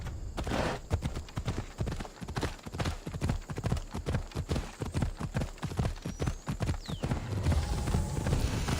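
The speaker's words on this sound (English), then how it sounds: "Looks like a sturdy horse." A horse in Assassin's Creed Odyssey clip-clops along in a steady, rhythmic stream of close, loud hoof beats that continue throughout, with a faint whinny near the end.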